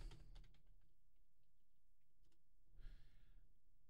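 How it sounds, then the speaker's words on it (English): A password typed on a computer keyboard, a quick cluster of soft, close key taps followed by quiet and a brief breath. "let me type my password here"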